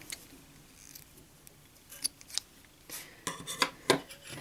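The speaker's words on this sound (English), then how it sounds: "what I would like to do is to cut my yarn" Scissors snip through yarn at close range, a few faint metallic clicks followed by a quick cluster of sharper snips near the end.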